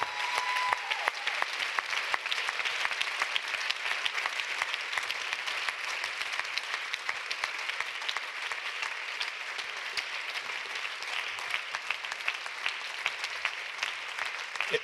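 Audience applause at the closing plenary of a French conference forum, dense sustained clapping from a large crowd lasting the whole stretch at an even level, with no talking over it.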